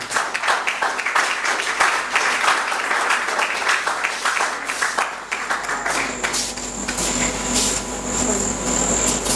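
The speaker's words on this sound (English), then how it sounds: "Ladies and gentlemen, with a great round of applause," A crowd applauds to welcome a speaker at a university student council handing-over ceremony, steady broadband clapping that continues throughout with some faint tonal hum and voices mixed in toward the end.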